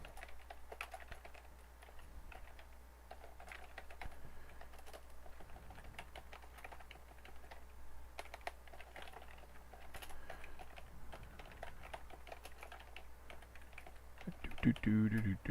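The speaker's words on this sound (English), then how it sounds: "Boring typing, boring typing." Steady keyboard typing runs throughout at a low level, a dense patter of soft key clicks under a faint background hum, with a brief louder burst of sound near the end.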